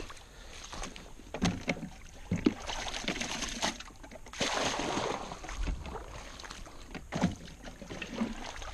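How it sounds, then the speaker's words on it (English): Someone rinses a bucket out in a small creek, producing repeated close sloshes and splashes of moving water against light outdoor wind noise. "Rinse my bucket out."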